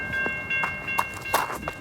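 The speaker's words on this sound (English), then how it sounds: "that train is running full steam now" A passenger train running at full speed on a track limited to about 80 km/h, heard as a steady rushing rumble with repeated rhythmic clatter bursts and a sustained high whine, fairly close, with no talk.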